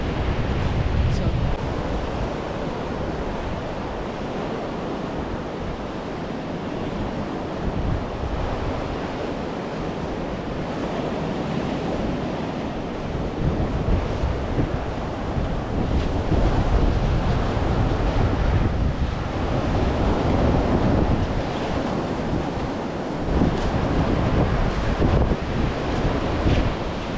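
Wind and ocean waves on a beach in Thailand where kites fly, a constant broad roar of surf mixed with heavy wind buffeting against the microphone, loud and unbroken throughout.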